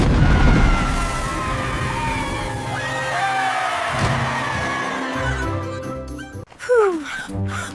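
A cartoon slime explosion erupts as a loud booming burst, followed by rumbling, wobbling tones and descending squelchy squeals, with a second sharp pop near the end; no speech.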